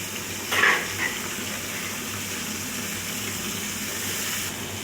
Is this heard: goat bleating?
no